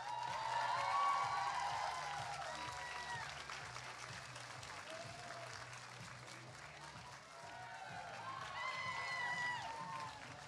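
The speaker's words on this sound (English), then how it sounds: "Give us a round of applause." A crowd at a convention runway costume contest claps steadily for about ten seconds, a dense even patter with a few scattered cheers, swelling again near the end.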